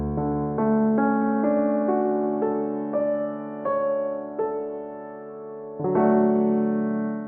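A plain compressed piano plays a slow phrase of single notes and chords, each strike even and sustained, ending on a fuller chord. It sounds close and clean, with no voices over it.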